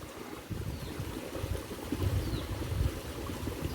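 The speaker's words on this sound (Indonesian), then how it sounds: "Sungai ini mengalir dari sebuah curug namanya Curug Jayawetsana" A river flowing down from the Curug Jayawetsana waterfall through an inland village area, a steady low rushing and trickling of water that holds evenly throughout with no voices.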